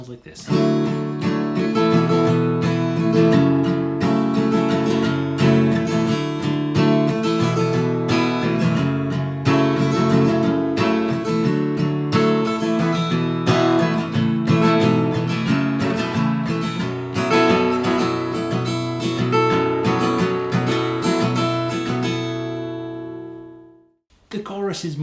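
Guitar strums the bridge chords of a song, dense and full, in a continuous strummed rhythm for most of the passage before stopping abruptly near the end.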